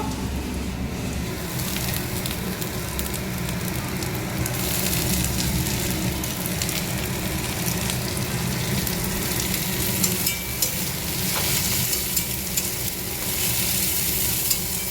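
Loud, steady sizzling of garlic and curry leaves frying in oil up close, with occasional spatula scrapes and crackles throughout.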